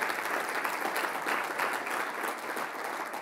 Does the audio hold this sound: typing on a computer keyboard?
no